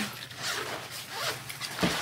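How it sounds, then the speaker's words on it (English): A zipper on the front pocket of an emergency backpack being pulled open, a few quick, raspy zip strokes close up, with a final sharper tug near the end. "they have another zipper in the front"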